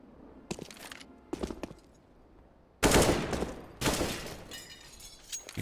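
Counter-Strike gunfire on the Train map during a pro match: short scattered bursts, then two louder close volleys of rattling shots with no voices.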